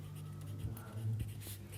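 A pen writes on a paper maths worksheet, giving a faint, steady scratching over a low electrical hum throughout, with no talking.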